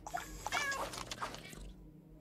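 A house cat in the game Gori: Cuddly Carnage lets out a few short, fairly quiet meows in quick succession, heard alone without talk.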